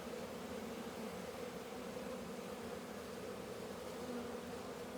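Honey bees buzzing during a beehive inspection, a faint, steady, even hum of many insects with no voices.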